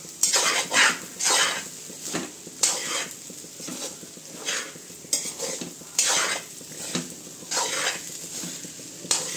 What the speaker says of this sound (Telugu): ఇట్లా కలుపుకుందాం మంచిగా